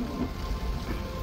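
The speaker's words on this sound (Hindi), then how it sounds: "तो दोस्तों बारिश तो अभी कंटिन्यू चल रही है," Steady rain falls during a jungle safari in Jim Corbett National Park, a soft, even hiss of drops on surfaces, faint and continuous with no voices.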